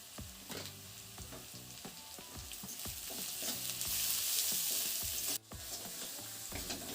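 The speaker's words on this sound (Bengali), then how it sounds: "তার মধ্যে দিয়ে দিলাম পেঁয়াজ কুচি পেঁয়াজটাকে এখন অল্প ভাজা ভাজা করে নেব" Chopped onion fries in hot oil with salt, a continuous close sizzle overlaid by repeated scraping stirs of a spatula against the pan, steady throughout with one brief break near the end.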